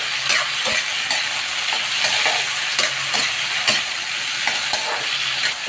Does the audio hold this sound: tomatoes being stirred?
yes